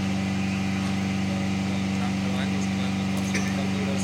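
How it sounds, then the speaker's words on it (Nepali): An airplane engine runs on the ground at dusk, giving a steady, loud, even drone with a constant low hum throughout and no clear change in pitch. "कराउँदै छ प्लेन"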